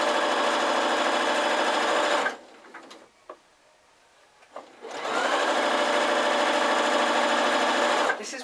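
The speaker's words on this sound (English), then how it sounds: "backstitch, and then carry on sewing down to the base" A sewing machine stitches a fabric seam on a drawstring Christmas sack, running steadily and close, pausing briefly around the middle with a few light clicks, then starting up again for a long, even run to the end.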